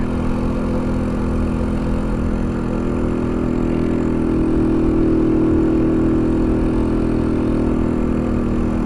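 A Kuba RX9 motorcycle engine at a steady 45-50 km/h makes a constant loud drone with a low rumble and no change in pitch, heard close up without speech.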